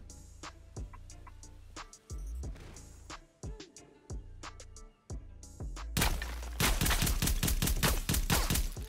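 Streetsweeper full-auto shotgun firing in Warzone, loud rapid blasts with brief pauses, then a dense continuous burst of fire near the end.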